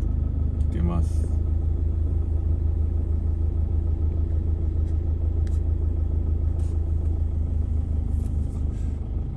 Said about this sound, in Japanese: 意外と車の通りが多いんで、